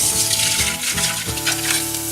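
Chicken sizzling in a hot pan for a Thai dish, a loud, close, continuous crackling fry with occasional stirring pulses.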